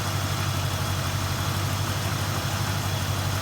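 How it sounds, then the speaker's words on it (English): The Pontiac 389 V8 engine of a 1963 Superior Pontiac Bonneville ambulance, which burns a lot of oil, idles steadily with a deep, even rumble, heard up close in the engine compartment without interruption. "this is the engine compartment of the 63 Superior Pontiac Air Force ambulance"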